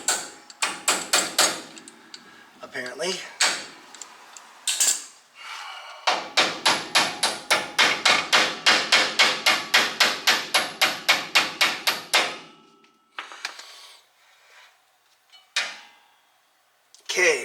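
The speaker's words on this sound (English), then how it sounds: "the tool you have is the hammer you need" Hammer blows on a 1968 Pontiac GTO during wheel bearing repair: a quick burst of strikes, a few isolated knocks, then a long steady run of about twenty sharp, loud metallic hits close by, with brief speech.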